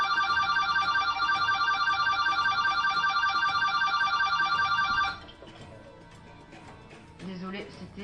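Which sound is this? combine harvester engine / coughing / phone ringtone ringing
phone ringtone ringing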